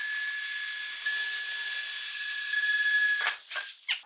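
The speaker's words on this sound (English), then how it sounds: "drilling the little pilot holes in here" A drill bores small pilot holes through a classic car's body for side mirrors, a steady high-pitched whine held for about three seconds, then breaking into short uneven bursts as the bit bites, close and loud.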